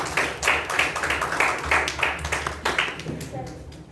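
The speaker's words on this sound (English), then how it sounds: "I congratulate all the speakers and give them a round of applause." Clapping at an evening youth leadership program session, a round of applause with sharp, uneven claps in a steady burst over a low background hum and some voices.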